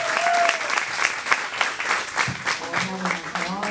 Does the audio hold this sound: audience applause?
yes